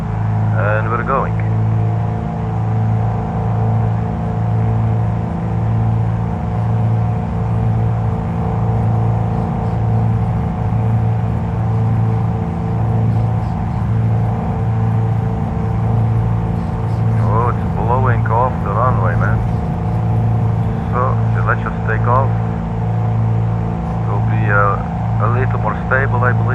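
Twin engines of a Piper PA-44 Seminole light aircraft at full takeoff power: a loud, steady, throbbing drone heard from inside the cabin, with a pulsing beat between the two engines and people talking over it.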